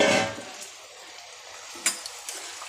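Magur catfish is added to a hot Bengali fish curry with oil. A loud sizzling splash comes first, then a quieter, steady simmering hiss with a few light utensil clinks near the end.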